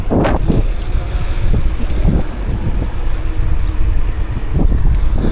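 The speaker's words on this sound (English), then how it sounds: "when you're biking there's wind" Heavy wind buffets a microphone while riding a bike on a hot day, a loud continuous rumbling roar with gusty swells, with no voice audible.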